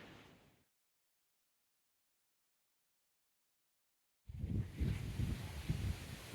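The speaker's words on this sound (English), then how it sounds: "It's a bit windy today." Wind gusting over a hiker on the Bruce Trail, with loud, rough buffeting that hits the microphone after a long stretch of near silence and keeps roaring steadily to the end.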